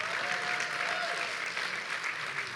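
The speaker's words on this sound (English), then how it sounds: "Clap if you felt the love." An audience at a film discussion claps steadily, giving a thick, continuous wash of applause that carries on for a couple of seconds, with a faint tonal whistle or cheer briefly rising through it.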